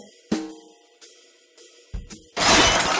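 Household items crash down and shatter during a house move, with a sharp breaking impact early on, a few lighter clatters, then a loud burst of smashing debris at the end.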